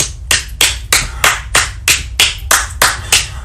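Steady rhythmic clapping, about ten evenly spaced loud claps in a few seconds, close and alone with no talk, applause at a church gathering.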